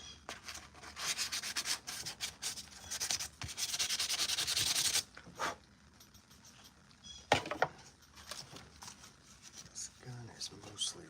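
Hand sanding of a custom Mandalorian armor piece: quick rhythmic abrasive rubbing strokes, close and fairly loud, in bursts separated by pauses, with a few knocks and handling sounds toward the end.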